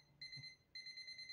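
Voltage tester beeping when held over two wires together, two steady electronic tones in quick succession, close and clear in a quiet room.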